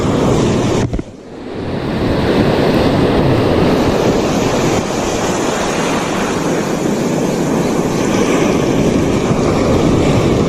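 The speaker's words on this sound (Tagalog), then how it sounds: "Lalaki ng alon, hindi tayo makalapit eh." Loud, continuous surf of big crashing sea waves at a coastal fishing spot in Agno, Pangasinan, with strong wind rushing across the microphone, a brief dip near the start before the roar resumes.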